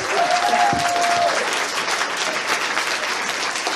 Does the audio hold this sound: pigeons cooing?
no